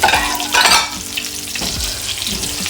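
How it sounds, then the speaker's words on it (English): Shrimp hit very hot coconut oil in a pan with a loud burst of sizzling and spattering, then a softer, steady frying crackle. "this coconut oil got really hot real quick"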